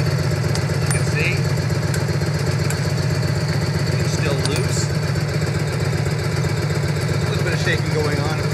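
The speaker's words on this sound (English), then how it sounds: "I'm gonna try to start the bike up, let it shake around for a bit" A Harley-Davidson FL motorcycle idles steadily with a loose front motor mount, its loud, close, lumpy rumble running throughout.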